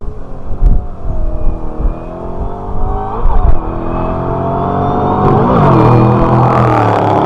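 A Ford Shelby GT500 revs hard during a burnout, its deep engine roar rising and wavering with sharp throttle blips, then building into a sustained, loud drone as the wheels spin.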